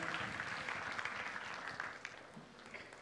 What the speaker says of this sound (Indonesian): Boleh kasih tepuk tangan buat mereka.